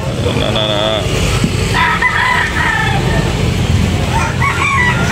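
A chocolate brown gamecock crows loudly and close by, its call repeated a few times, while other roosters crow and cluck amid steady background noise at a poultry market.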